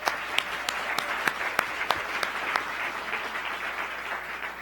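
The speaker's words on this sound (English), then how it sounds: "Let's give them another round of applause." Audience applause at a Philadelphia Federal Reserve community development event, a steady wash of clapping with sharp individual claps standing out, sustained at an even level without talk.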